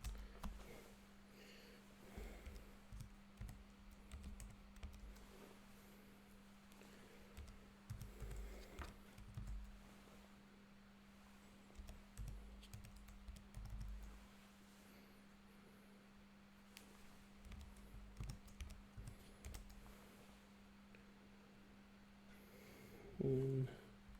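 Numbers being typed into a spreadsheet on a computer keyboard, with soft, faint keystrokes in irregular clusters over a steady low electrical hum, quiet and close.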